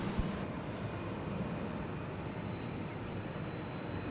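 A Boeing 717 airliner approaching at Atlanta airport, a steady broad jet engine roar that stays constant and moderately loud throughout, with no speech.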